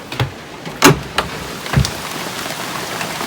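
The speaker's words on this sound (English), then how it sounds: "it is pouring out right now." Heavy rain pours down outside a shed, a steady broadband wash with several sharper close drops or knocks striking nearby surfaces; no talking.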